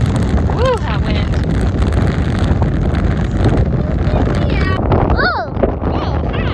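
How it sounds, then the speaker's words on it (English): Strong wind buffeting a microphone outdoors, a loud continuous low roar filling the whole stretch, with a voice speaking briefly over it. "that wind"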